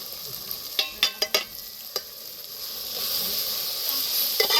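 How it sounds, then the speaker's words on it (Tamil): Onion, tomato and ginger-garlic paste sauté in a pan for squid gravy. A quick burst of spoon knocks and scrapes gives way to a steady, airy hiss and sizzle, close up with no voices. "வெங்காயம் தக்காளி இஞ்சி பூண்டு பேஸ்ட் எல்லாமே நல்லா வதங்கிடுச்சு"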